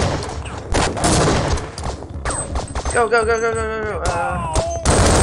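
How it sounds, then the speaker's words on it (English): Gunfire rattles through a Half-Life: Opposing Force firefight between grunts and Black Ops: dense, loud bursts of shots, with voices shouting and talking over the shooting and a brief clear tonal cry in the middle. "Why are you shooting me?"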